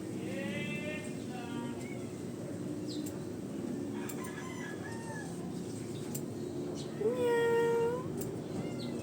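A cat meowing close by in a drawn-out, wavering cry, with a louder steady meow near the end, while a voice talks softly and rooster-like calls sound faintly in the background.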